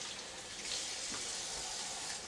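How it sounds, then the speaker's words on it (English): Water runs steadily from a tap during a kitchen session making BBQ sriracha ribs, a continuous broadband splash as hands are rinsed, with no speech over it. "I always wash my hand so that I don't contaminate anything with soap and water."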